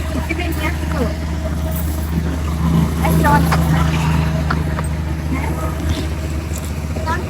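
A steady low engine drone runs throughout, like a motorboat motor chugging along, with faint voices and water noise mixed in.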